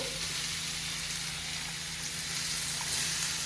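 Grated carrot fries in ghee for carrot halwa, giving a steady, even sizzle throughout with faint stirring, close and soft.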